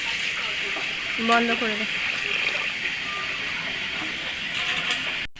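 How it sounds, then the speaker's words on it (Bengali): Water pours into a cooking pot of sautéed, spice-fried food bound for a pressure cooker, producing a continuous close sizzling gush throughout, with a voice speaking briefly over it midway. "এবারে জলটা ঢেলে দিই"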